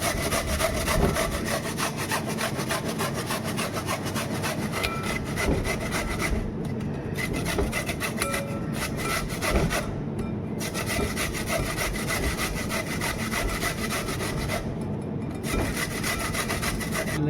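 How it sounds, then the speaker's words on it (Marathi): Beetroot being grated for beetroot halwa: a continuous, close, rhythmic wet rasping of root against grater, steady and even throughout with only brief pauses. "चला आता आपण जो बीट आहे त्याचा किस पाडून घेऊया"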